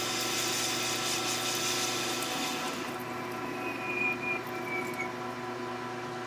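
A metal lathe parting off a turned part gives a steady motor hum with a grinding, scraping cut that fades partway through, followed by a faint high squeal.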